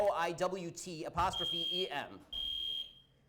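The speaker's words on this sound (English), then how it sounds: "somebody pulled the fire alarm to stop this" Shrill electronic tone of a fire alarm ringing in a crowded lecture hall during a protest, entering partway through and sounding in two steady bursts as people speak and shout over it.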